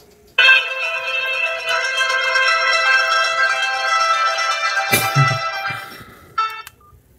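A Migo Ornate button phone places a call, producing a loud, sustained electronic tone for about six seconds that ends in a click, followed by a brief beep.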